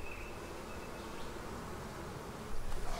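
A beehive gives off a faint, steady drone of honey bees, with a low hum running underneath. The drone swells slightly in the last half second, and no one speaks.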